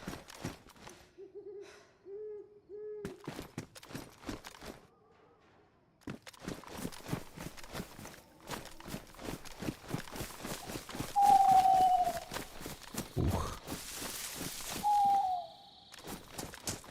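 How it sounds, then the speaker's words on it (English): Owls hooting at night in a video game set on a coast, two clear drawn-out hoots at a moderate distance over game footsteps and soft ambient noise, with no talking. "Owls howling"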